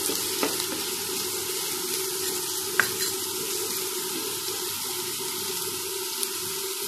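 Onions with salt frying in a pan for a squid fry, a steady close sizzle with faint spoon scrapes and taps from stirring, continuous and without talk.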